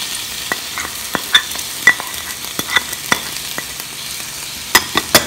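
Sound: spices added and stirred in a frying pan

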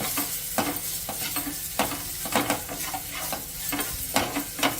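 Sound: capsicum and spices frying in a pan

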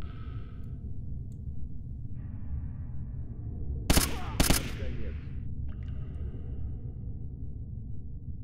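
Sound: enemy gunfire in S.T.A.L.K.E.R. Anomaly video game

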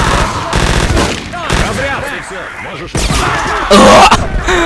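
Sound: gunfire in video game Battlefield 2142

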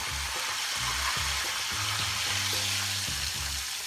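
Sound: hot tempering oil poured over lamb nihari

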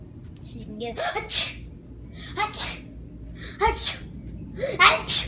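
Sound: fake sneeze imitated by a child

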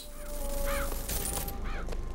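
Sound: crows cawing in Bioshock Infinite video game

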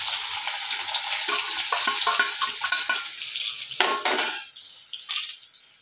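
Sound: frying cumin, onion and garlic in oil in a kadai

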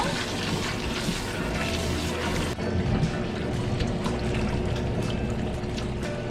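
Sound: rinsing cabbage in cold water

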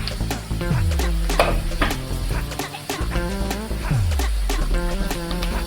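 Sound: wild greens added to pan with cooked onion, sizzling

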